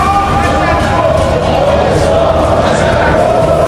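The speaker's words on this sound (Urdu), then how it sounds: "ایرانی پارلیمنٹ میں شکریہ پاکستان کے نعرے گونج اٹھے" A crowd in the Iranian parliament chants slogans of thanks to Pakistan, a dense, steady roar of many voices filling the hall at loud, unbroken level throughout.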